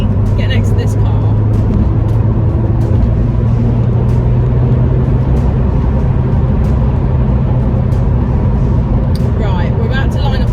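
A car drives along a road, its steady engine and road rumble droning loud and continuous as it pulls up alongside another car, with occasional brief clicks.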